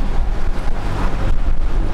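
Waves push against an anchored boat while wind buffets the microphone, making a steady, loud, rumbling gusty noise with swells of water wash and no voices.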